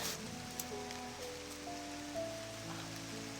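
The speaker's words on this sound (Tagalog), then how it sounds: "Yan, umuulan na." Steady rain falls outdoors in a rural Philippine setting, a constant broadband hiss of drops on surfaces with a faint tonal hum running beneath, no talking.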